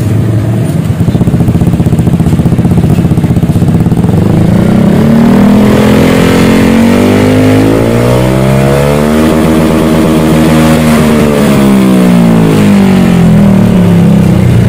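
A Honda Beat scooter with an aftermarket exhaust is started and revved, a loud, close engine note rising and falling through repeated throttle blips and swelling to a sustained high rev before settling.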